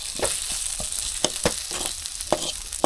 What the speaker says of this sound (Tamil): போட்டுக்கலாம் ஃப்ரையாக இருக்கணும்